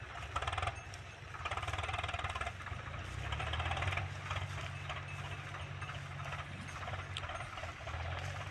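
A tractor hauling an overloaded sugarcane trolley strains with its wheels stuck, even with three tractors hitched. A rough, knocking engine rumbles continuously and fairly close, without any speech.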